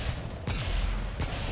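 Two heavy single shots from the Starkiller, a high-damage single-fire weapon in the game Remnant 2, each a sharp broadband blast with a booming low tail, spaced about three-quarters of a second apart over a steady background rumble.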